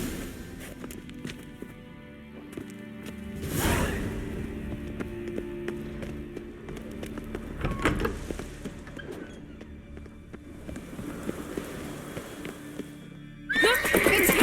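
Horses whinny amid hoofbeats and clattering movement in the Witcher 3 video game, set against a dense background with a few sharp accents.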